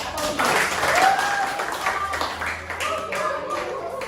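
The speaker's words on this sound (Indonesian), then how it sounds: "Tepuk tangan dulu." Steady applause from a school classroom, broad and sustained, with a few voices talking over the clapping.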